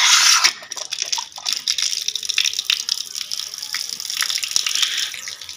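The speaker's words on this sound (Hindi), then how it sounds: "और अब पानी भरते हैं इसमें।" Water gushing and splashing steadily into a small plastic pool meant for baby ducks, a close continuous rushing pour with slight fluctuations and no talk.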